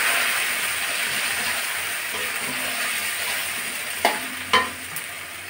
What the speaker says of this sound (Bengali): এখন আলু ভাজার ভিতরে মশলাটা দিয়ে ভালো করে আলুটা কষিয়ে নেব।